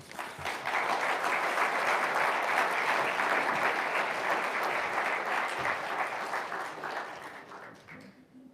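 An audience at a book launch claps loudly and continuously, a full roar of applause that holds steady before tapering off and fading out at the end.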